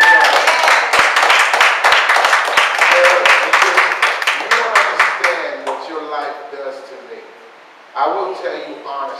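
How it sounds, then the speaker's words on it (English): Church congregation clapping hands in rhythm during a service, quick sharp claps that thin out, with speech and sung or spoken voices coming in toward the end. "Come on, clap your hands."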